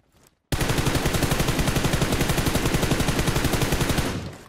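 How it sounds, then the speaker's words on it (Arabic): Automatic gunfire rips through a PUBG match, a loud, close burst of evenly spaced rapid shots that starts abruptly after a short quiet moment and holds steady for about four seconds before it trails off. "بعد ثلاث طلقات مشان الله"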